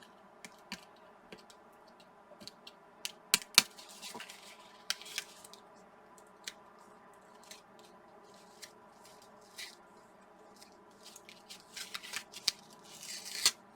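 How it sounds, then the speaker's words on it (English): Tape pulled and peeled off a paper flip flap book, heard as scattered faint crackles, ticks and small tearing sounds over a quiet background, with no talking. "See if I can just pull that tape away."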